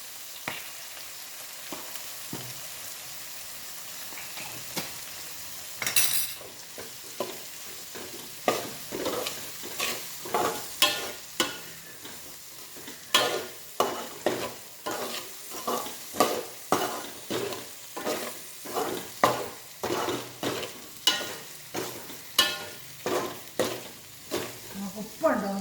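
Asafoetida powder spluttering in hot oil while bird's eye chili pickle is made, with a continuous sizzle and a run of rhythmic spoon-against-pan stirring scrapes that grow steadier and louder toward the end.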